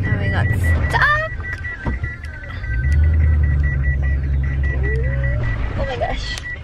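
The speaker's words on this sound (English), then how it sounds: "That's the four-wheel thingy going off because we're in sand." A four-wheel-drive vehicle stuck in beach sand sounds a repeating electronic warning tone over a low idling engine rumble, while people talk nearby.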